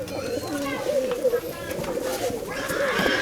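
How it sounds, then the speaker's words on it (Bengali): Domestic pigeons cooing steadily at a pigeon farm, several birds close by in a continuous low burbling chorus with a voice talking over them for much of the time. "চারিদিকে শুধু কবুতর আর কবুতর থাকবে।"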